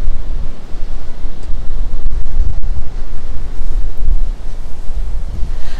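Wind buffets the microphone on the beach at Santa Ponsa, Majorca, as waves wash in steadily beneath it, a loud, continuous roar with no speech.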